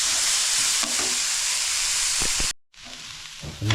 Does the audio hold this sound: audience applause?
no